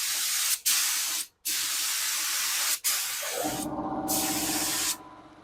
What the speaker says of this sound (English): Let this compressor shut up for a bit.